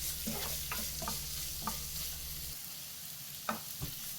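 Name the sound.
onions sautéing with salt in a pan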